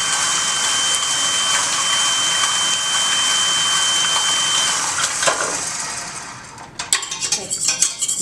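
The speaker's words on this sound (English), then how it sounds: "Just go ahead and give them a nice whisk." Eggs and sugar are whisked in a bowl for a flourless chocolate cake, giving a steady, close, bright metallic swishing that breaks into a few louder clinks near the end.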